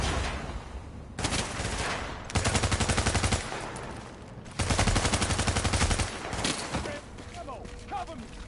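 Rapid automatic gunfire rattles in the video game The Division, two long sustained bursts of fast shots separated by quieter stretches and scattered single shots, loud and close.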